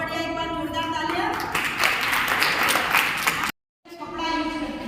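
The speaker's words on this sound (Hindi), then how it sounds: "एक बार जोरदार तालियां" Applause from a seated audience of girls and women at a menstrual hygiene awareness event, a steady broadband patter that swells mid-clip, cuts out briefly, then resumes, with a voice speaking over it.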